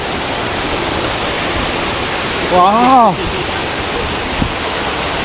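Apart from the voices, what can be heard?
waterfall in North Bali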